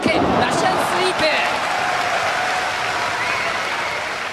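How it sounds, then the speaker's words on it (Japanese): Arena crowd at an all-Japan pro wrestling six-man tag match in Kagoshima Arena, including Stan Hansen and Giant Baba, breaking into loud sustained applause and cheering that fills the hall steadily from start to finish. "やんやの喝采であります鹿児島アリーナ。"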